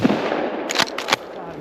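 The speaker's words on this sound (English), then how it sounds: "I'm gonna shoot the one out of the corner." Two sharp gunshots crack out about a third of a second apart while squirrel hunting in a snowstorm, loud and close over a steady hiss of wind and snow.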